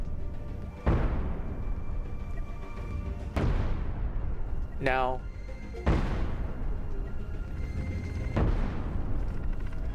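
Ship cannons fire in the space game Cosmoteer on a vessel armed with cannons and shields, four heavy booms spaced a few seconds apart with decaying tails, a brief word spoken between them.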